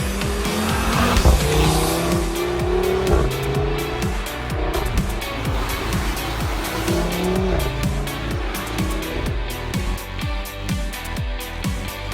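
A new Audi RS3 from Audi Sport drives hard near Marseille, its engine loud and revving through gear changes while the tires squeal and skid repeatedly across the whole stretch.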